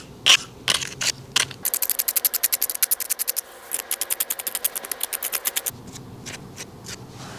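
Paint scraper scrapes weeds out of cracks in a concrete driveway in quick rhythmic strokes, a close series of sharp rasping scratches with brief pauses between bursts.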